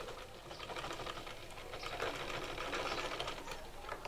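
A sewing machine runs a steady stitch through fabric while a neckline is sewn, a continuous close mechanical rattle of needle and gears, fairly quiet and unbroken.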